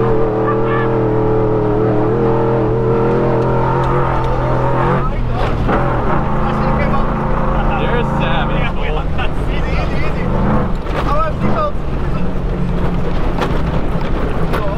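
A short course linked prerunner truck drifts on dirt, its engine revving loudly and rising and falling through the run, with excited talk over the top.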